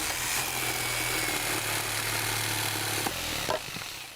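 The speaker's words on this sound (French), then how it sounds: "vais t'apprendre à te servir d'une scie sauteuse pour couper les planches de l'étagère que nous devons construire" A jigsaw cutting wooden shelf boards in a children's cartoon buzzes steadily and loudly, close by, for a few seconds, then stops with a couple of sharp clicks.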